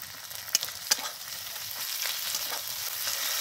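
Garlic and ginger paste fries with potatoes in a pan, a steady bright sizzle with two sharp clinks of a utensil early on, then a continuous crackle that grows slightly louder.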